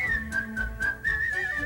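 A bright melodic whistled tune from a Disney song comes in a few sustained and bending notes, clear and close over a soft musical accompaniment.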